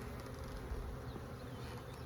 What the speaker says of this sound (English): I see bees over here, like you can see them, right?